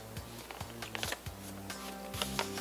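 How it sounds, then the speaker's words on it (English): Paper being folded over and creased into a gift box, with close, dry crinkling and rustling in short bursts over a steady low hum of background sound. "I'm gonna take this whole part and I'm gonna fold it over and crease it."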